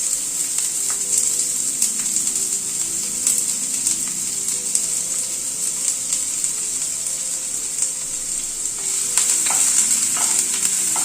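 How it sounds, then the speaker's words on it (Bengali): Onion frying lightly in hot oil gives a steady, close sizzle throughout, with faint stirring clicks scattered over the crackle. "পেঁয়াজটা একটু প্রথমে হালকা করে ভেজে নেব, খুব হালকা করে।"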